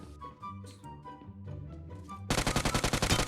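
Gunfire in an online shooter game played with only an Uzi. Quiet game sounds come first, then a loud, rapid automatic burst fills the last second, with no one talking over it.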